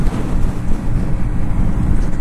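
A Honda Grom motorcycle at full throttle on a highway, heard as a loud, constant roar of engine and rushing wind buffeting the microphone up close.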